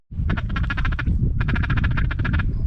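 Rapid raspy quacking from a small duck during a duck hunt, two rhythmic bursts of repeated calls, loud and close with a rough low rumble underneath.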